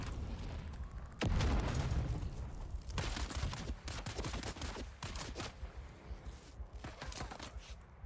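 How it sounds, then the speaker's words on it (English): Grenade blasts and gunfire in the video game Dune: Awakening, a sharp loud boom followed by several further bursts of explosive cracks and shots spread over a few seconds, fairly close, with no voices. "Oh, grenade."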